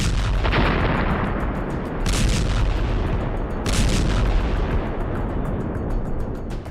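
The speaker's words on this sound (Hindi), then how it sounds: "500 पाउंड के गिरे बम" Heavy 500-pound bombs explode over Gaza City amid dense, continuous rumbling, with several louder booming surges rising out of a distant, roaring wash of blasts.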